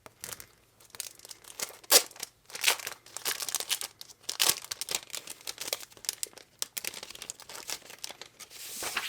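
Plastic packaging from a Sterling Ink planner subscription box crinkles and rustles up close in uneven bursts, sharp crackles and soft tearing handling sounds with brief quiet gaps, no speech.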